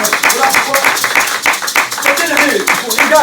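Church congregation clapping in rhythm to acclaim Jesus during a worship service, steady repeated claps under a loud preacher's voice that keeps talking throughout.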